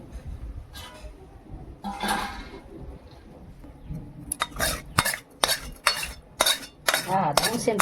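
Steel utensils clink and scrape against a pot of raw katla fish tok curry being lifted off a kitchen stove, starting with scattered soft stirs and turning into several sharp, close metallic knocks in quick succession near the end.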